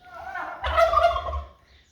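A turkey lets out a single rapid, warbling gobble, close and fairly loud, lasting about a second and a half.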